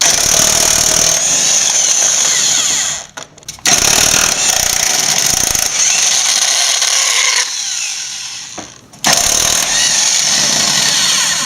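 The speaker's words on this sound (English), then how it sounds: "But before you jack it up, remove these bolts." Bolts are removed from a Ford Focus 2.0 SOHC engine with a loud rattling impact tool, buzzing in long bursts broken by brief pauses.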